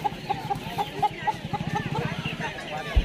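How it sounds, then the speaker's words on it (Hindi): Roosters clucking at a busy Sunday hen market in Kiratpur, Uttar Pradesh, a string of short close clucks over crowd murmur and a vendor's voice, ending with a sharp bump. "अरे आ गया भैया खानदानी मुर्गा"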